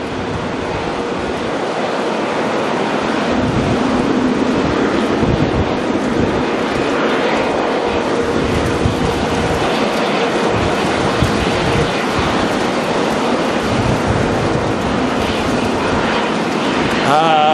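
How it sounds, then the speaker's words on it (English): Strong wind at Auckland Airport buffeting the microphone, a loud continuous broadband rush and roar with gusty low-frequency rumble that runs throughout, no talk over it. "Oh, so much wind as well."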